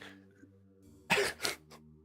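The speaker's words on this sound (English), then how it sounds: "I didn't realize an AI could cough like this." Two harsh coughs in quick succession from an AI character in a video game, close and fairly loud, with a smaller cough trailing after, over a low steady electronic hum.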